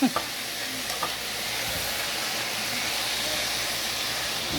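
Greens fry in a pan with bacon and onions, giving off a constant loud sizzle and hiss, with a few clinks of a fork stirring at the start.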